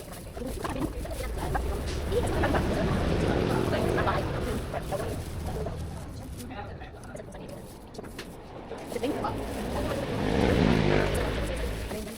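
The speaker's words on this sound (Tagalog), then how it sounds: "Traffic." Road traffic passing by, a busy wash of car engines and tyre noise rising and falling, with people talking over it.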